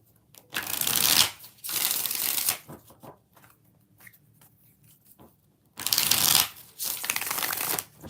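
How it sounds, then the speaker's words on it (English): Tarot cards are riffled and shuffled in two bursts of crisp, rapid flutters close up, separated by a pause with soft handling sounds. "2 more shuffles."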